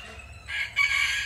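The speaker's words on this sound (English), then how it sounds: "He's the Belgian Liege fighter rooster." A Belgian Liege fighter rooster gives a short, loud crow close by, a single bright rising call that holds strong for about a second.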